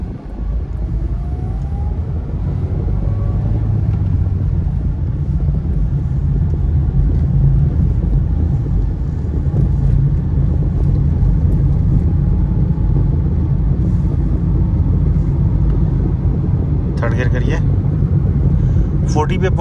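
Manual-gear car moving onto a driving test track in Ajman, a steady low engine rumble running throughout, with an instructor talking over it and a brief clatter near the end.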